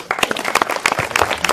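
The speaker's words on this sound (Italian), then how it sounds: "Applauso per Ferdinando Spanò" Applause for poet Ferdinando Spanò at an evening of dialect poetry, a close crowd of hands clapping in a lively, uneven patter throughout.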